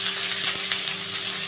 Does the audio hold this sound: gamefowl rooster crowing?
no